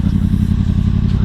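A 2018 Yamaha MT-10 (FZ-10) motorcycle fitted with a Pipe Werx exhaust rumbles at steady, loud close range, its deep throbbing engine note holding constant with slight clattery texture.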